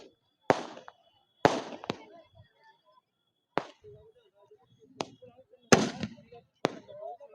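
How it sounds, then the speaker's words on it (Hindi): Fireworks at an outdoor Dussehra Ramlila Ravan Dahan celebration go off as a string of sharp, separate bangs spaced a second or so apart, each fading quickly, with faint crowd noise between them. "और अभी देखना ये आतिशबाजी,"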